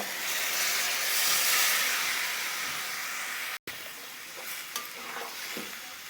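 Water splashed into a pan of frying fish sets off a loud, steady sizzle with bright hissing steam, broken by a brief cut and followed by quieter crackling and stirring clicks.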